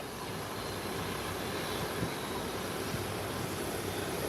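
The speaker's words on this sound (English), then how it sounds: "And now we'll be taxiing to its parking area on the ramp." An airplane on the ground after landing, about to taxi: a steady, broad engine roar at a distance, even and unbroken throughout, with no voices.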